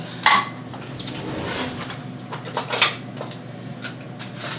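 A small plate is picked up and handled in a kitchen: a sharp clink at the start, then scattered light knocks and clatters of dishware.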